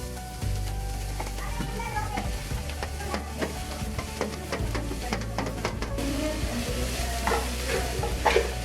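A cabbage mix is stir-fried with urad dal and dried chillies: a continuous close sizzle with repeated spatula scrapes and stirring strokes throughout, growing busier toward the end.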